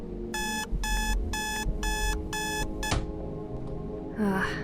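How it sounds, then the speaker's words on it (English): An alarm clock beeps in five evenly spaced bursts, close and loud, then stops abruptly with a click, followed by a brief rustle. "Why do you need such an early alarm?"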